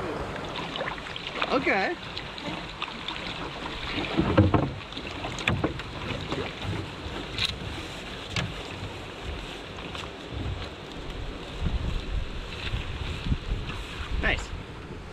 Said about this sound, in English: now paddle forwards